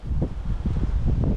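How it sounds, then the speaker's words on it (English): Wind gusting outdoors during a model car speed build session, a steady low rumbling roar with buffeting against the microphone, fairly loud and continuous throughout. "Now the wind's picking up."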